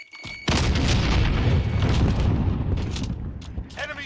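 A frag grenade explodes in the video game Warzone, a loud, abrupt blast followed by a rumbling, debris-filled decay lasting a few seconds. Brief voice chatter can be heard around it.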